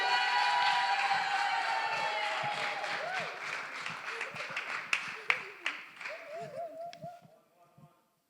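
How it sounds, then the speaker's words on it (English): Applause from the audience at a Black Care Experience conference for an act, starting full and gradually thinning into scattered individual claps before fading out, with some music or voice tones under the start. "I want to hear a big round of applause for our first act"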